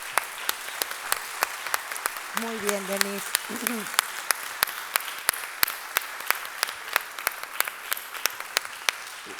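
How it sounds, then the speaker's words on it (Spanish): Audience applause after a talk about an escape over the Pyrenees, a steady run of sharp, evenly spaced claps at a brisk rhythm, with a brief spoken phrase over it early on. "Vamos a hacer un aplaudir de verdad."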